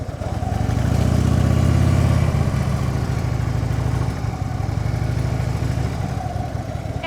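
A motorcycle engine idles steadily and close by, swelling slightly in the first seconds as the bike is eased nose-first into an angled parking spot, then settling into a constant rumble with no talk.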